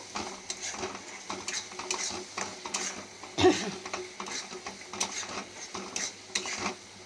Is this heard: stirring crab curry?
yes